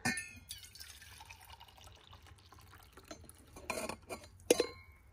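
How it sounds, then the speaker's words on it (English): Coffee poured from a camp coffee maker into a cup inside a minivan, a soft trickle joined by clinks of glass and cup, with a sharper clatter near the end; no talking. "Now you just pour your coffee into your cup."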